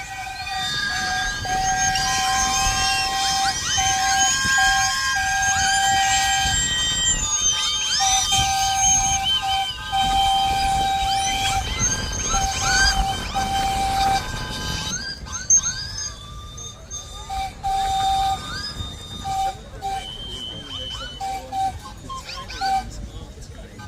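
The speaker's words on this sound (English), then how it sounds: "they've got their fingers on the whistle chain. Are we ready to have a whistle off?" Many steam engine whistles at a steam and vintage rally sound together in a long sustained chorus of overlapping shrill tones, some steady and some bending in pitch, loud and continuous, later thinning into scattered separate blasts amid crowd noise.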